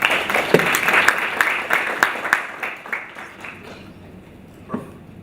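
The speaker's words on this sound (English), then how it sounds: "Can you give him a round of applause?" An audience at a conference opening day claps in a brief burst that fades over about three seconds, leaving a few scattered claps and quiet room noise.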